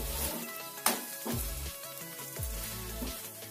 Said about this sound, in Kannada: ಎರಡು ಸೈಡು ಚೆನ್ನಾಗಿ ಫ್ರೈ ಮಾಡ್ಕೋಬೇಕು